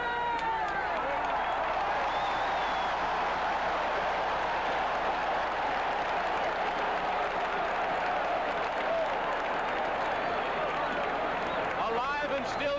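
A football stadium crowd at the 1978 Oakland Raiders at Green Bay Packers game roars continuously, a loud, sustained wall of cheering with the noise of a large crowd throughout.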